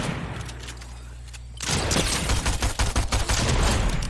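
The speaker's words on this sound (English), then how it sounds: "Who the fuck's shooting at me?" Fortnite gunfire erupts after a quieter stretch, a loud rapid string of close shots hammering in quick succession and continuing to the end.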